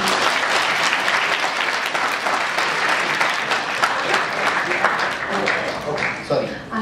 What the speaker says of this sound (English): Could we just give him another round of applause?